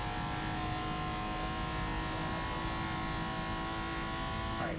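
A car drives in the racing game Forza Motorsport, its engine a continuous steady drone with a held tone, loud and unbroken across the whole stretch, with no talk.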